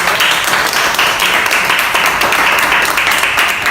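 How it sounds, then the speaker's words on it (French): Audience applause welcoming a volunteer at a sanitary-pad product demonstration, dense steady clapping from a crowd that fills the whole stretch without a break. "Acclamons pour papa."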